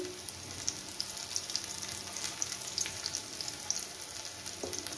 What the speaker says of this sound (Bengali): একটা পিঠ ভালো করে ভাজা হলে তবেই আমি বড়াগুলোকে উল্টাবো, না হলে ভেঙে যেতে পারে